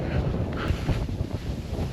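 Strong wind buffeting a microphone outdoors while running, a steady loud low roar and rumble filling the whole stretch with no speech.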